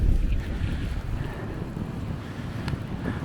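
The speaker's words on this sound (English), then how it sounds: "with all the wind, you probably can't even hear me" Strong wind buffeting the microphone during a New York City snowstorm, a steady, heavy low roar without gaps and no talking.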